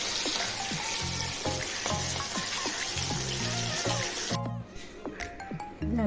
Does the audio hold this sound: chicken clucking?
no